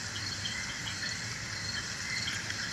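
Crickets chirp steadily in a dense, continuous insect chorus near a swampy marsh, a bright high shimmer running unbroken through the clip with no talking.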